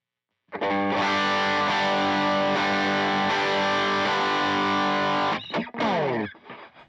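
Electric guitar through the blue side of a Protein overdrive pedal on a worship rig, a loud sustained distorted chord ringing for about five seconds before a quick muted restrike and fading tail.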